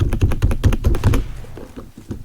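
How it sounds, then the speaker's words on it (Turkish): Rapid, clacky computer keyboard typing up close, a quick burst of keystrokes that thins out into a few scattered taps. "klavye sesi size çok geliyorsa kusura bakmayın arkadaşlar"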